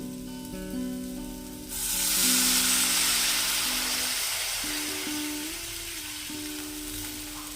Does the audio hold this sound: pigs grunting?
no